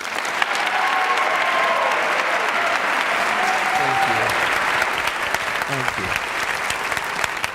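Audience applause with cheering and whoops greets a speaker as he takes the stage at a 2014 event, dense and sustained throughout, with a man briefly beginning to speak near the start.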